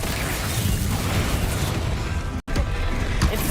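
A Bombarda spell explosion in Hogwarts Legacy booms through loud, continuous combat noise, with a brief drop to silence before the rumbling resumes.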